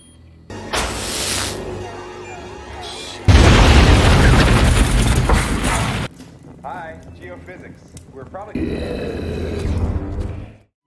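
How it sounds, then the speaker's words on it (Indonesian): A deep, roaring explosion bursts out and rumbles for a few seconds, set among dramatic film sound and a voice speaking. "Namun tiba-tiba saja permata itu meledak"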